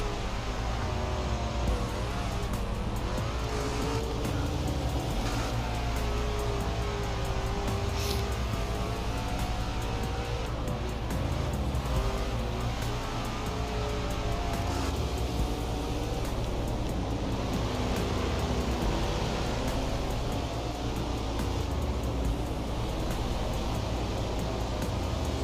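In the SRX racing game, a race car slides into Helio Castroneves and spins him out, heard as a steady, unbroken engine and road roar at moderate level for the whole stretch.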